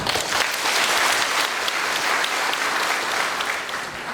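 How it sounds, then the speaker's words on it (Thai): An audience at a Thai certificate-awarding ceremony for reserve volunteer defense corps members in Buriram claps steadily, a dense sustained round of applause that fades slightly toward the end. "เสียงปรบมือเป็นกำลังใจให้กับทั้งสองท่านค่ะ"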